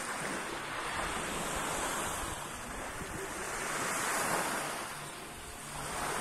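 Sea waves wash onto the shore at Malia, Crete, a steady broad roar that swells and recedes with wind buffeting the microphone, fairly loud and continuous without talk.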